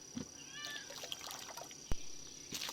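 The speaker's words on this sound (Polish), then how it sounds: "Czy tylko mi się wydaje, czy słyszałem jakiegoś tam kota?" A cat in the video game LEGO City Undercover gives a short meow among quiet game ambience and a steady high tone, with a sharp click shortly after, no talking.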